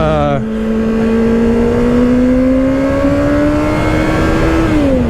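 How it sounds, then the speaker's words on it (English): A 2024 Kawasaki ZX-6R 636 motorcycle on its stock exhaust drones steadily, its engine note climbing slowly as it revs under way, loud and close, before easing off at the end. "listen to that stock exhaust"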